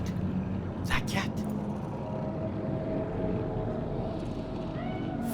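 A cat meows in a Cyberpunk 2077 city street, over a steady hum of traffic and ambient game noise, with a couple of short higher calls early on and talk running throughout.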